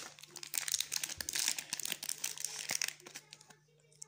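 Plastic and paper packaging from a Nanana surprise toy crinkles and tears while little shoes are unwrapped. The crackling comes up close in irregular bursts, then fades out at the end.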